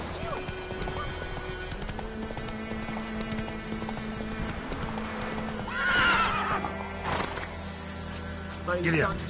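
In the game Witcher 3, the horse gallops with rhythmic hoof clip-clops and then lets out a loud neigh near the end, with a voice talking over the sounds.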